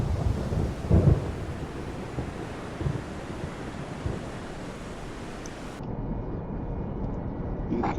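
Heavy rain and storm noise at sea in the submarine game Silent Hunter 3, a dense steady roar of rain, wind and surf with low rumbling thunder bursts near the start, continuous and loud throughout.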